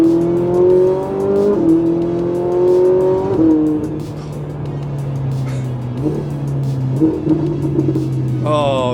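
A Ferrari 458 Italia's V8 engine revs loudly and close, its rising harmonic tones climbing and dropping through several gear-like steps, with a sharper higher rev burst at the end.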